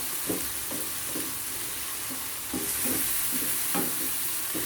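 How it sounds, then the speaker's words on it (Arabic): Filling being stirred in a pan with sizzling oil and garlic, with a steady frying hiss close by and regular scraping strokes of the spoon repeating about every half second. "وغادي نحركو"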